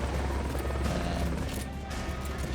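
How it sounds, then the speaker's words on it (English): A helicopter arrives in the video game Metal Gear Solid: Peace Walker, a steady, dense rotor roar that holds throughout, fairly faint, with no talk. "Chopper."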